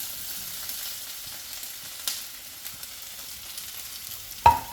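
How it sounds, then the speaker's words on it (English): Onions and peppers fry in a pan with a faint, steady sizzle, broken by a few soft stirring scrapes and one sharp utensil clack near the end. "So we're going to mix it until we see that our onions and peppers are soft"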